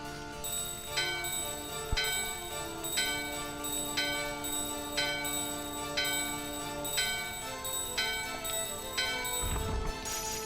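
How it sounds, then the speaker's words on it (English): A bell in the Final Fantasy IX game rings repeatedly at a steady, roughly one-second pace, clear metallic strikes with long ringing tails over a soft musical background, with a low thump near the end. "Climb the stairs, ring the bell."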